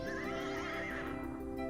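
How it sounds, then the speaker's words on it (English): Winged horse neighing in the video game King's Quest II, a continuous loud synthesized whinny filling the whole short clip. "is it a magnificent winged horse?"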